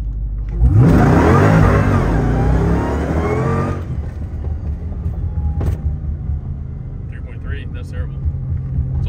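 An AWD Chrysler 300 fitted with a Demon 170 engine launches hard from 0 to 60, its engine note rising loud and close for about three seconds before easing into a lower cruising hum.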